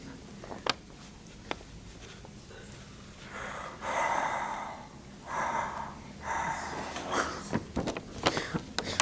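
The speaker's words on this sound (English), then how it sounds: "Somebody is breathing like Darth Vader right here." Heavy, loud breathing near a microphone during a mathematics lecture, with several long gasping inhale-exhale pulses and a few sharp taps and clicks scattered throughout.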